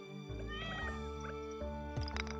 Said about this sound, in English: Oh, you see this cat here?